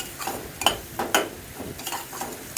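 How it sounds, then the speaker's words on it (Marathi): Ground masala paste sautéed in oil that was very hot, with a utensil scraping and clinking against the pan in irregular strokes over a soft frying sizzle, close up. "ते वाटण मी टाकलेलं आहे. छान आपल्याला परतायचं आहे."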